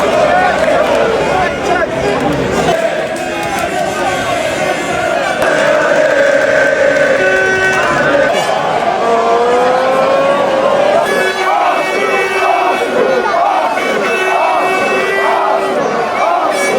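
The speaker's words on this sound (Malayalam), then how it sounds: "ഇവിടെ കച്ചവടക്കാർ, സ്ട്രീറ്റ് വെൻഡേഴ്സ് ഇങ്ങോട്ട് അടുത്തടുത്ത് വരുമ്പോൾ ഫുള്ള് തിരക്കാണ്" A dense football crowd mills around outside Arsenal's Emirates Stadium during a celebration, with loud chanting and shouting voices and passing traffic. The noise stays near and continuous throughout.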